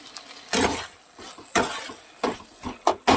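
Fried potato pieces go into a pan of sizzling spice paste with several sharp clatters and scrapes of a spoon against metal, spaced irregularly over a soft frying hiss.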